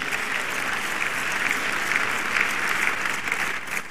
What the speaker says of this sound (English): even another round of applause